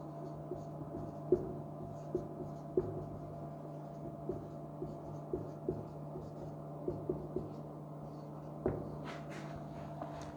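Marker or pen writing on a board during a linear algebra lecture on graphs and spanning trees, heard as soft, irregular scratchy strokes over a steady low room hum, with no talking.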